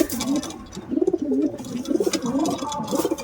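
Newly arrived pigeons, including black Jiriya types, coo in a loft shared with chickens, repeated soft throaty warbling calls in short rhythmic bursts, close by and fairly quiet, with no speech.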